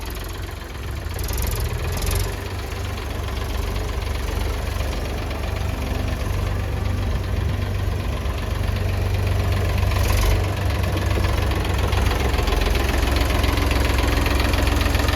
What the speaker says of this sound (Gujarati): તો આ ટ્રેક્ટર બતાવ્યું તમે જોયું ચાલુ કરીને આટો મારીને